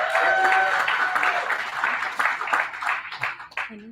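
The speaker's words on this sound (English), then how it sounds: "Give Deanna a round of applause." Audience applause for a speaker at a Selma civil-rights gathering, a dense burst of clapping that gradually thins and fades out over a few seconds.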